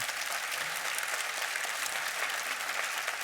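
Sustained audience applause at a business school panel discussion on generative AI, a steady, dense wash of clapping from a fairly large crowd, even in level throughout with no speech over it.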